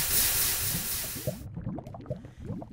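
A water bucket emptied in a Minecraft-style block game gives a short burst of rushing, hissing water, followed by a few soft, close clicks and knocks once the pour cuts off.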